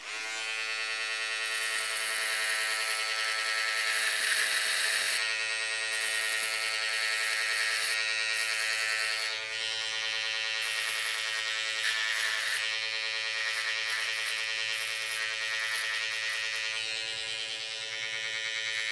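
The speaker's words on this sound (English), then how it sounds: "We're going to shave down first and then shave up." Electric hair clippers buzz close up and loud as they shave hair down for a skin fade at a barber's. The motor drones steadily, its tone shifting slightly as the blades move across the head.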